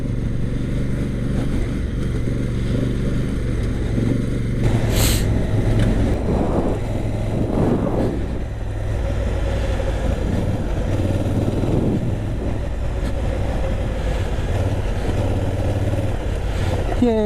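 Honda Africa Twin motorcycle riding along a day route around Mt Hood and Lolo Pass, engine drone and wind rush steady throughout, close and loud, with a brief rising whoosh midway.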